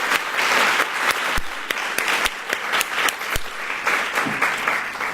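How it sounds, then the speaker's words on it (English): An audience at a 2016 education competition applauds after a team's presentation, a loud, continuous wash of clapping with sharp individual claps standing out and fluctuating slightly in intensity. "Let's round of applause."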